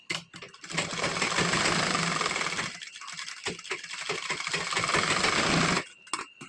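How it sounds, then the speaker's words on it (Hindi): Sewing machine running continuously as it stitches a thin line along blouse fabric over its lining, with a brief pause near the middle and a stop at the end, close and loud. "ऊपर में ब्लाउज कपड़े के ऊपर हल्का सा पतली सिलाई देंगे"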